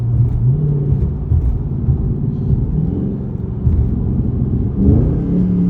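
A Dodge Scat Pack's engine pulling from inside the car, a loud, deep, steady rumble that climbs in pitch and then drops briefly for an upshift before building again.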